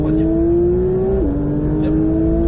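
A Porsche 911 992 GT3 on track at Mettet accelerates hard, its engine note climbing steadily before dropping at an upshift and pulling on again, loud and close.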